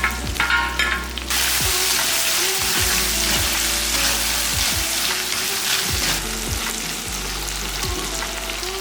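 Small chopped tomatoes dropped into onions frying in a pan, a brief lighter rustle giving way to a loud, dense, continuous sizzle close by, with scattered low pops and crackles throughout and no voices.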